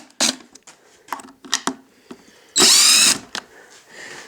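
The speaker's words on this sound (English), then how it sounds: "Let me grab the drill." A power drill whirs in a short, loud burst removing screws, surrounded by clicks and knocks of handling tools and parts.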